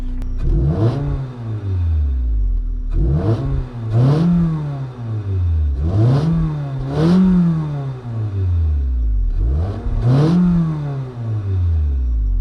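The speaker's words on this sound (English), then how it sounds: "let me go ahead and get you some revs" A car engine revved repeatedly, close and loud, five or six sharp climbs in pitch each dropping back to idle.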